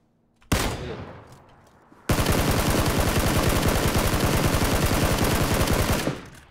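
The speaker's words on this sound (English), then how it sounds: "this guy just shot a double barrel" A double-barrel shotgun blast in PUBG, a sharp close shot followed by a decaying tail, then a sustained dense burst of rapid gunfire that fills several seconds before cutting off.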